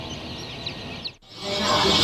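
Newly hatched chicks inside a hatchery machine make a steady high chirping chorus over constant mechanical hum, briefly cut off and then returning louder.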